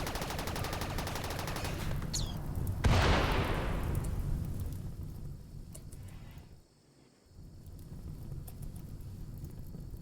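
A frag grenade goes off in RimWorld, a single sharp broadband blast that rises out of steady game ambience and decays over several seconds, with a brief dip to near silence afterward before the background returns.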